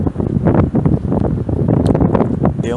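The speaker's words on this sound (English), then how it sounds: "Of course, it's gonna get windy right now." Wind buffets an outdoor microphone in loud, irregular rumbling gusts that rise and fall without pause, with no other sound standing out.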